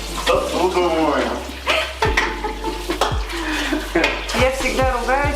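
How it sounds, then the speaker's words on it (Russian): Dishes being washed in a kitchen after a barbecue ribs meal, with repeated clinks and scrapes of pots, pans and cutlery and some running water, loud and close with brief voices around. "Посуду моем."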